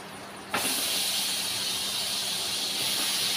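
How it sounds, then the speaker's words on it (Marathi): Cut paneer drops into hot butter and oil in a kadhai, setting off a sudden loud sizzle after half a second that holds as a steady, dense hiss. "आता मी इथे पनीर कापून घेतलेलं ते टाकते"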